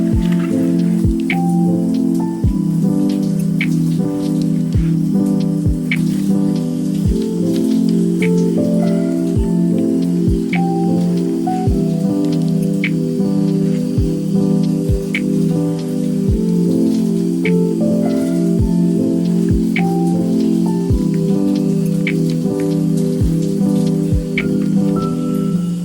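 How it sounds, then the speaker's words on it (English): Water running through natural hair as shampoo is rinsed out, giving a steady patter of drips and splashes under a sustained musical drone, with no voices. "enjoy this relaxing clip of me rinsing out the shampoo"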